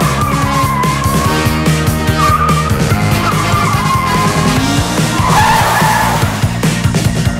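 A car driven hard slides and skids with squealing tires and a revving engine, loud and close, the screech rising and falling for several seconds with no talk.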